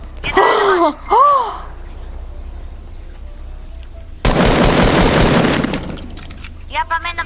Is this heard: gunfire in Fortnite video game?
yes